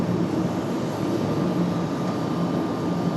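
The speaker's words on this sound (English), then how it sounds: "An A319 should be a good departure." An Airbus A319 departing Raleigh-Durham airport, a steady broad engine roar holding at constant loudness, with a low rumble and a faint high whine throughout.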